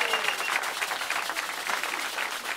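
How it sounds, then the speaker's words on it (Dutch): A carnival session crowd applauds Jean-Pierre Knoops, with steady, full clapping from a packed hall, continuous and even for the whole stretch. "Mag je applaus voor Jean-Pierre Knoops alsjeblieft?"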